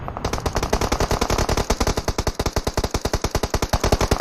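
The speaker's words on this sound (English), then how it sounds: "Gotta love the sound of the M16 with a suppressor on it." Suppressed M16 rifle fire in the mobile battle royale game PUBG Mobile: a long, rapid run of evenly spaced, punchy shots, loud and close, with no talk over it.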